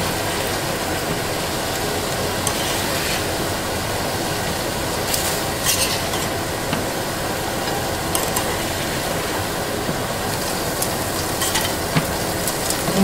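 Steady, dense sizzling of shrimp frying in a hot pan while making coconut curry shrimp, with occasional scraping and clinks of a utensil as pieces are stirred and lifted out, no voices.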